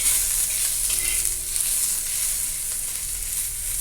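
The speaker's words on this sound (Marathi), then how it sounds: "तर आता ही कांदा पण मी छान असा भाजून घेणार आहे" Onion frying in a little oil in a pan, a continuous close sizzle with soft stirring scrapes, fairly loud and steady throughout, with no voices.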